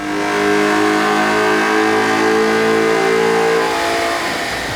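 A manual 2014 Ford Mustang V6 fitted with an Airaid cold air intake revs hard on a chassis dyno, its engine note loud and close, climbing steadily in pitch through a sustained pull and easing off near the end.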